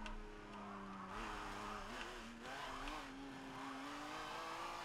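A Lancia Stratos HF Group 4 rally car in the Forza Motosport 7 video game accelerates hard, its engine note climbing through gear changes in a steady, fairly quiet drone.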